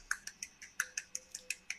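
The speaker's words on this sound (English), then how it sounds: "I can one-hand clap. So I started doing this." A single hand performs one-hand claps: about a dozen sharp, dry pops like finger snaps, close and crisp, in a quick, fairly regular rhythm with nothing else around them.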